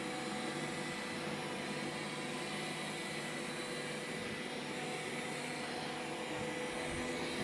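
A Roborock S5 robot vacuum cleaner hums with a steady whirring drone as it runs its first mapping pass across a floor, continuous and fairly close, with no talking.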